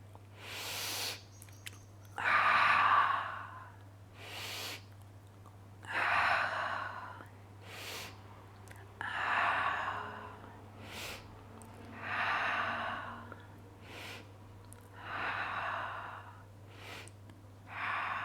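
Repeated forceful exhalations during a Pilates scissors exercise, about seven breathy puffs spaced evenly every couple of seconds, close and fairly loud over a low steady hum.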